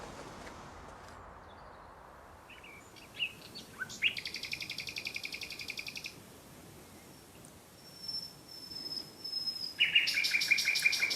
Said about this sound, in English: No extraneous noises apart from the bird that I want, the nightingale.